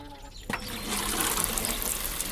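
A watering can pours water in a steady splashing stream that starts abruptly after a short pause and continues evenly, close and moderately loud.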